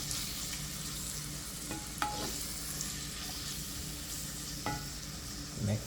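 Mixed vegetables for Jamaican saltfish seasoned rice are stirred in a pan, giving a quiet, even sizzle with occasional light scrapes and clicks of the spoon against the pot.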